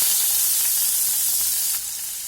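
Four small-cut garlic cloves and finely chopped onion fry in hot oil for egg fried rice, giving a close, steady, bright sizzling hiss that drops slightly near the end, with no talking.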